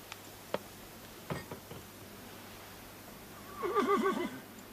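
A horse neighs near the end, a wavering whinny rising out of a quiet outdoor scene from a French television film about Lancelot, preceded by a few soft scattered knocks and thuds.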